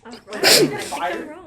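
A single sharp sneeze bursts out in a high school physics classroom, close and loud, followed by brief speech.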